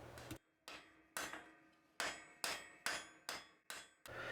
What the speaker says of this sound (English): Here I'm forging in a transition that I'm going to use to create a round bar section